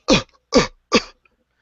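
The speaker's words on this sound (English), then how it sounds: "One day, her son started coughing badly." Three short, sharp coughs from a boy with asthma in quick succession, close and clear with silence between them.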